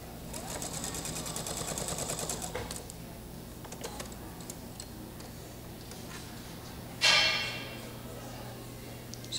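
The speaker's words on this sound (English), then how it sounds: "I line it up. And I sew that seam again." Sewing machine running a seam across a polygon quilt block, a close burst of fast rhythmic stitching for the first few seconds, then quieter handling sounds and a brief bright clatter near the end.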